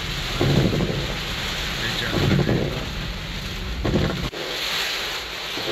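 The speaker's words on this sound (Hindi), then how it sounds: "फुल टाइम ज़ोरों से बारिश" Heavy rain pours in a steady, loud broadband hiss over Wapda Town, Lahore, with a few low rumbling swells rising and fading beneath it.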